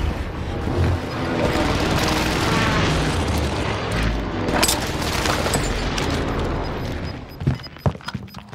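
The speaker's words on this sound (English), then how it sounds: "Here comes the airstrike." An airstrike in Call of Duty Warzone lands as a dense barrage of loud booming explosions and crackling gunfire-like bursts, sustained for several seconds before thinning into scattered sharp pops.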